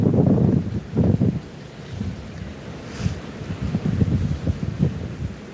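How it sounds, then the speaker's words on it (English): Strong wind at a lakeside bird sanctuary in Mexico, New York, buffets the microphone in loud rumbling gusts that rise and fall, with calmer moments between the blasts. "It is very windy."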